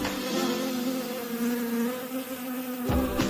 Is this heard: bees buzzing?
yes